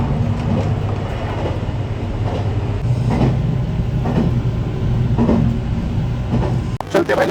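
Small toy-like local train running through a Japanese village, heard from on board as a steady loud rumble with rhythmic clatter, ending in a sharp knock.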